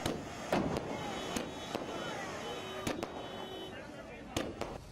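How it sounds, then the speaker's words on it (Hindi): Sharp firecracker bangs and sparklers pop irregularly over a continuous crowd din at a street celebration in India, some close and loud, others farther off, scattered across a few seconds. "फुलझड़ियां जलाई जा रही हैं, पटाखे फोड़े जा रहे हैं।"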